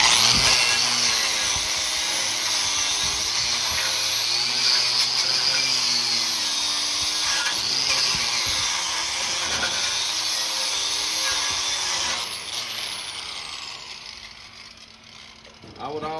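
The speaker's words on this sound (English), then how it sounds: "We're gonna grind it. I'll use a wire brush." Steady high-pitched whine of a grinder or wire brush working a 7018 stick weld root pass on a 4G overhead test plate, loud and continuous with harsh grit, easing off near the end while someone talks over it.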